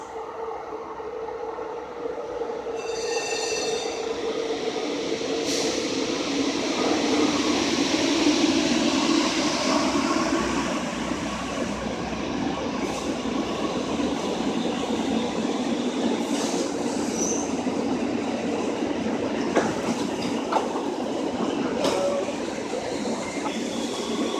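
An SF Muni subway train runs through Montgomery Station underground, a loud sustained rumble of cars and wheels with rising squeals and clatter, brief high tones and announcement-like sounds near the start.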